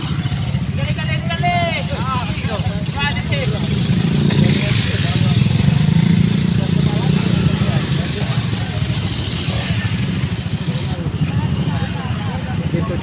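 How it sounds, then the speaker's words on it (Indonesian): Motorcycles pass on a road with traffic stalled after an overturned trailer truck, engines rising and falling nearby under a steady roadside rumble, with voices talking over the passing bikes. "Begitu juga sebaliknya, sepeda motor akan melintas."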